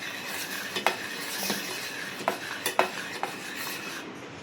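A spoon stirs sweet poha with grated coconut in a pan over a low flame, giving soft scraping strokes with several sharp clinks of metal against the pan. Faint sizzling runs underneath, with no talk.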